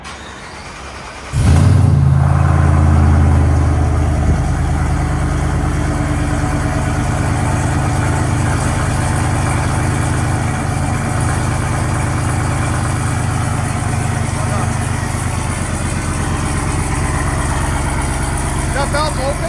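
A Demon-swapped Jeep Gladiator with headers and Valvetronic Designs exhaust fires up, then idles loudly with its exhaust valve open. The deep rumble is steady and close, and voices talk over it.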